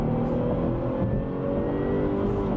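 A Jaguar XF S Sportbrake accelerating at full throttle, heard from inside as a steady, loud engine drone with a faint rising whine, no talk.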